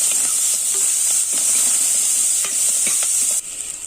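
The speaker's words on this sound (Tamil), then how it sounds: "இதை நல்லா பொன்னிறமாக வறுத்துட்டு அப்புறமா வாழைக்காவை சேர்த்துக்கலாம்" Ingredients frying in oil in a pan until golden for raw banana poriyal, a loud constant sizzling hiss with intermittent scrapes of stirring, dropping slightly at the end.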